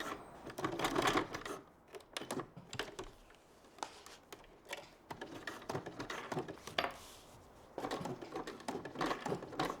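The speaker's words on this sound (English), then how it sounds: "The sewing machine did struggle with the webbing." A home sewing machine stitches through thick bag webbing in slow, halting bursts, rapid mechanical clatter starting and stopping with short gaps, fairly quiet and close.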